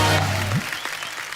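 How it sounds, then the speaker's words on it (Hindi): Studio audience on a Hindi comedy talk show breaks into applause for a guest singer, the clapping rising in scattered bursts as a tonal sound slides away at the start; brief and fairly loud. "जोरदार तालियां हो जाए ध्वनि के लिए"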